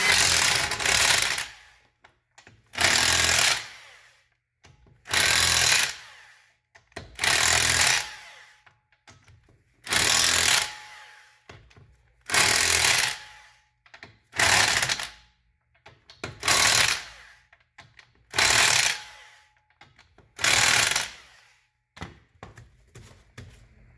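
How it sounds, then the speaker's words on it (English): An electric impact wrench tightens the wheel lug nuts on a 2007 Mercedes-Benz CLK550 AMG, firing about ten loud, close hammering bursts of a second or two each, separated by short quiet gaps. "This happens to be an electric impact."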